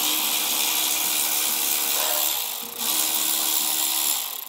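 A power driver with a T40 Torx bit runs steadily for several seconds, taking screws out of a bracket on a 2020 Chevrolet Silverado during an air helper spring installation. The whine is close and continuous, with a short dip midway.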